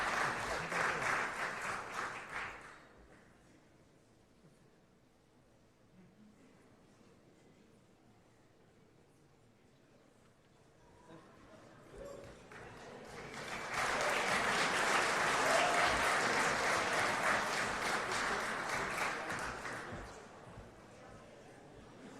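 Audience applause at the Golden Joystick Awards 2025, a loud sustained burst at the start, then quieter room noise, then a second long, full round of clapping.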